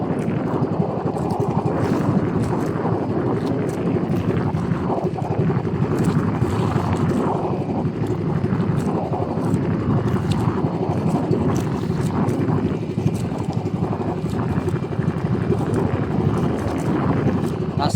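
Steady wind buffets the microphone with a constant low roar, continuous and loud throughout, with faint watery motion in the background.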